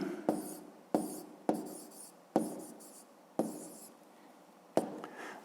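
A pen writes by hand on paper while a grade-five math exercise is worked out, in six or seven short firm strokes, each a sharp scratch that fades quickly, close and alone.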